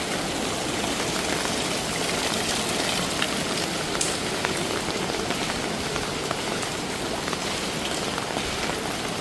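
Dense, steady downpour hitting the pavement of a Bangkok street in rainy season, a loud, even wash of splashing drops with no pauses.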